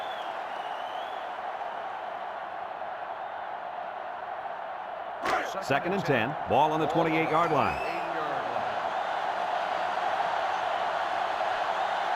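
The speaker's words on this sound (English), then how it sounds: "This sellout crowd is really making a difference now as these guys can't even call the play." Steady roar of a sellout stadium crowd in a college football video game, Florida State against Notre Dame, runs throughout as a constant wash, with an announcer briefly calling the down and yardage over it midway.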